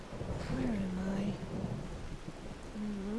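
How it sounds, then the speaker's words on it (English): Rain falls steadily in Skyrim with low thunder rumbling underneath, while a voice hums or speaks faintly in the middle of the storm. "You're in a barn getting rained on."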